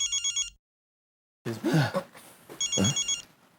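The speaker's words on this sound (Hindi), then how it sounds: "मेरा फोन बज रहा है" A mobile phone tucked in a man's upper shirt pocket rings with a bright electronic ringtone in two short bursts, the second louder and overlapping, with someone talking in between.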